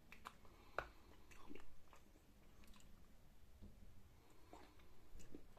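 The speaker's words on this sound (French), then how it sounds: "C'est super dur à mordre, par contre, faites gaffe." Hard milk chocolate being bitten and chewed close to the mic, a sharp snap followed by soft, faint crunching and mouth sounds over several seconds, with no talking.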